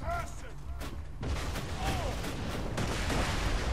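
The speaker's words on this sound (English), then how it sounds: "Just threw me with a grenade and you exploded because of a grenade yourself" Explosions and gunfire in the video game Borderlands 2, with a sharp blast and a dense wash of firing and debris around it, loud and close.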